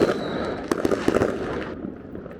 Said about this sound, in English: Did you hear the fireworks?